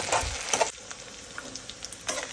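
Sliced onions fry in a pan with a soft sizzle and a few stirring scrapes, close and fairly quiet, with no voice.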